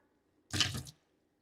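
A can of water is poured into a stew pot in a home kitchen while making beef stew, giving one short, splashy gush lasting under half a second, set apart by quiet.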